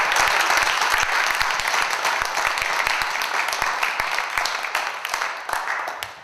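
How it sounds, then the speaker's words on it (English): Audience giving a round of applause at an event, dense, steady clapping with sharp individual claps standing out, tapering slightly toward the end. "I think we need to give a big, big, big round of applause for Miss C. Brown for putting this together."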